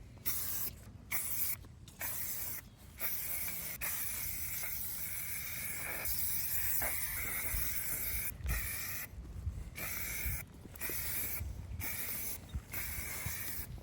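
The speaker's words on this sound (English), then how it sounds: "I'll get the spray paint and we'll start looking at that." Bursts of hissing spray from a spray paint can, several long sprays separated by short pauses, close and fairly loud, with no talking.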